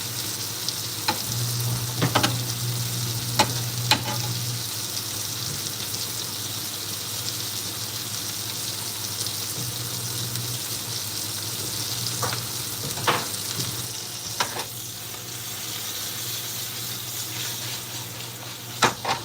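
Steak fries in butter in a pan with a steady, close sizzle, with scattered clatters of utensils and handling noises throughout.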